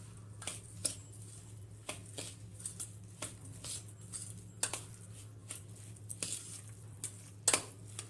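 A spoon scrapes and stirs a thick semolina and poha batter for rava idli as water is added bit by bit, giving soft, irregular scraping strokes close by, with no talk.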